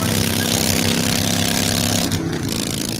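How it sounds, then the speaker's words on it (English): A motorcycle engine drones steadily and loudly throughout, a constant rumbling hum with no talk over it, that fades a little in the final second. "this is what that same commercial sounds like on your motorcycle"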